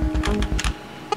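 Computer keyboard keys tapped in quick succession to play the Tomb of the Mask game. The clicks are close and fairly loud and come in a rapid run of about eight presses, then a short pause and one last pair of taps.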